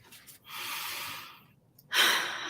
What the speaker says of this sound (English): I'm just going to invite you to take a breath